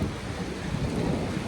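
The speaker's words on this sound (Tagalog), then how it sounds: "So ayan ang lakas ng ulan. Kidlat-kidlat pa." Heavy rain pours at Disneyland Paris with low rumbling thunder, a dense steady hiss of rainfall and deep rolling booms, fairly quiet and with no voices.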